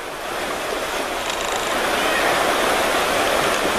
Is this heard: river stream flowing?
yes